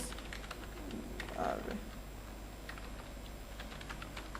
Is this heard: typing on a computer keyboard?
yes